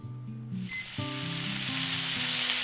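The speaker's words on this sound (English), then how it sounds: "While the meat is grilling" Teriyaki pork sizzles loudly in a hot pan, a sudden burst of frying that stays steady and bright after the meat goes in.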